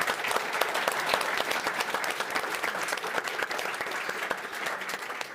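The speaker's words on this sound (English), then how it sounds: "let's give a round of applause to the panel" A conference audience applauds a panel at an energy and environment event, dense sustained clapping from a sizable crowd at moderate distance, even and unbroken throughout.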